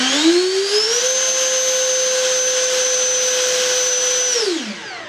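A 12-blade electric ducted fan on an RC jet, a DuraFly Vampire converted to a DH-110 Venom, spins up to a loud steady whine, holds there for several seconds, then winds down at the end.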